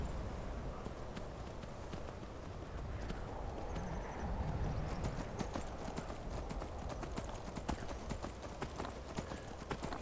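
Horse hooves clop at a steady trot in Skyrim, the video game, a continuous rhythmic run of hoof strikes at mid distance with faint background ambience and no voices.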